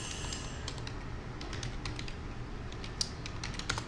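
Keys on a computer keyboard clatter in quick, uneven bursts as a name is typed, fairly close and quiet, with a few sharper keystrokes near the end.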